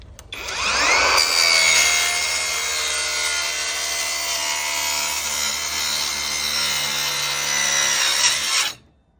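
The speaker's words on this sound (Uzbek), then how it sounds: "bu picholkasini ishlashi." An electric jigsaw cuts through wood with a loud, close, continuous buzzing rasp that holds steady for about eight seconds before stopping abruptly.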